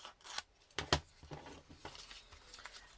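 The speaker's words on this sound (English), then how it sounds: "I'm going to cut it in half." Scissors snipping through a paper ribbon to cut it in half, a few short crisp cuts and rustles close up, with no talk.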